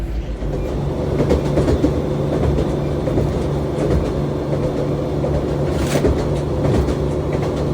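A steady, loud rumble of a train rolling on rails in Devon, England, with a continuous rattling clatter throughout and no voices.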